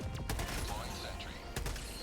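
A deployed sentry turret fires in a co-op shooter game: two or three sharp, short bursts stand out over busy background game noise.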